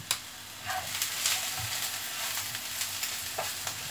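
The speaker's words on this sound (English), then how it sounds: "Sorry if the pan's a bit noisy, everyone. Just cooking these off still." Steady crackling sizzle of egg wrap fillings frying in a pan, with a few sharper pops and faint stirring scrapes throughout, close and moderately loud.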